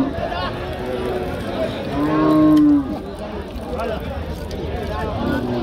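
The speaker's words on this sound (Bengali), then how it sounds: "এটা কুরাস জাতের হাড্ডিসার গাভী গরু" A bony cow of a crossbred type moos once, loud and close, at a busy cattle market in Barobazar, Jhenaidah, amid background voices and crowd chatter.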